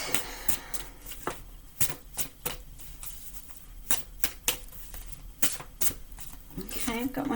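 Oracle animal cards are shuffled and drawn by hand, giving a run of crisp, close riffling and flicking bursts with a rustling, papery texture and short pauses between them, and a voice speaks briefly near the end.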